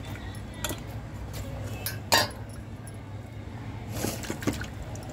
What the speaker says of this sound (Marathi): आता हे तिसऱ्या पाण्याने धुवायचं